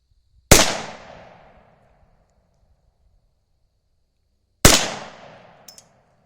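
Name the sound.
Remington Nylon 66 .22 rifle being fired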